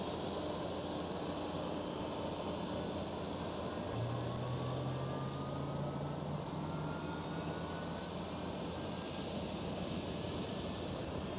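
An airliner in TAROM's retro 66th-anniversary livery passes at Amsterdam Schiphol, its engine noise a steady, distant broadband roar with a faint rising whine, no voices.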